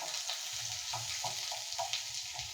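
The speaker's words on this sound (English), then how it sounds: "we want the butternut to saute a little bit so that it can caramelize" Butternut squash sautés in a hot pan with a steady, soft sizzle and faint crackles, heard alone and fairly quiet.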